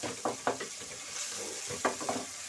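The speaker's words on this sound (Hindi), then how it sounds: "अभी तकरीबन 2 से 3 मिनट हम इनको अच्छी तरह से भूनेंगे और साथ साथ चम्मच चलाते जाएंगे" Minced meat and tomatoes frying in a pan are stirred with a spoon, giving a steady low sizzle under several distinct scraping, clinking strokes near the start and again toward the end.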